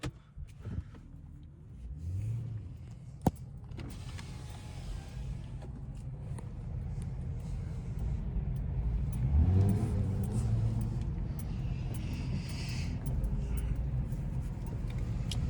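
A Chrysler 300 doing a burnout in traffic, engine revving and building in loudness with a broad whirring roar, heard from a modest distance amid street noise, with one sharp click early on.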